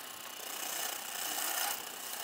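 Steady rasping scrape of a woodworking gouge cutting into a wooden cheese serving board, one continuous close stroke with a slight swell in the middle.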